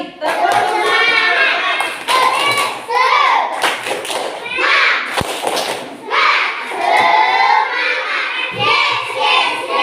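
Children in a classroom clap along in a loud rhythmic chant led by a teacher, with bursts of claps and thumps mixed into their shouted voices for several seconds.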